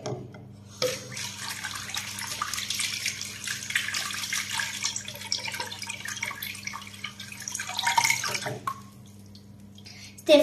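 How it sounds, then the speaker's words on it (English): Running tap water splashes steadily into a sink for several seconds, with a brief faint pause near the end as hands move under the stream. "rinse my hand with water"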